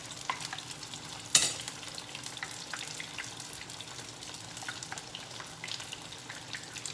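Beer-battered halibut frying in hot oil, a low steady bubbling sizzle with light clicks and one sharp clatter early on, fairly faint and with no talking.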